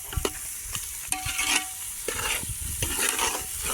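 Masala sizzles and crackles in hot oil outdoors on a farm, with a steady hiss and intermittent scraping stir strokes, close by and with no speech.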